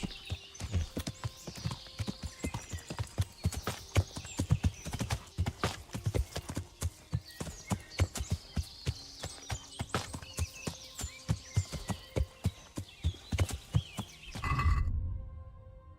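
A horse's hooves clip-clop at a steady walking pace in the video game Kingdom Come: Deliverance while hunting on horseback, close and continuous, and they stop abruptly near the end.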